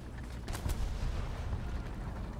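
A tank cannon fires in War Thunder: one loud booming shot with a heavy low rumble that rolls on under continuous engine and battle noise.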